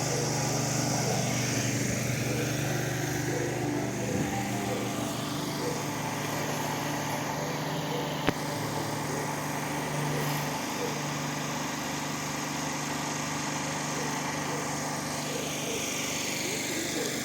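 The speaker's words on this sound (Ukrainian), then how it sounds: "Навіть туалет працює від генератора, зверніть увагу." A generator runs outdoors at a Saint Nicholas Day gathering in Truskavets, powering a toilet, giving a steady droning engine hum throughout with faint background voices.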